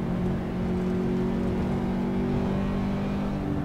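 Race car engine in Assetto Corsa holding a steady, loud drone with a constant low tone, continuous and close throughout, as if cruising at speed with no voices.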